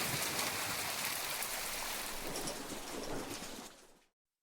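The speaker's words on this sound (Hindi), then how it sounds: "गांव भैरवपुर में बरसात का मौसम शुरू हो चुका था।" Steady heavy rain pours down in a village at the start of the monsoon season, a dense, even hiss that carries on without a break and then cuts off abruptly.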